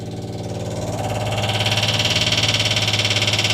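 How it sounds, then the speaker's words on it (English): Electric fuel pump on a supercharged Mini engine runs steadily, a loud, close, continuous buzzing whine with a fast regular pulse that grows slightly louder and then holds, with no talking. "We're going to hear the fuel pump first."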